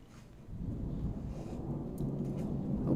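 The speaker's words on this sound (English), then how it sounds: "Oh, there's that thunder." Thunder rumbles low and rolling over a steady patter of rain, fairly quiet and distant, swelling slightly toward the end with no voices.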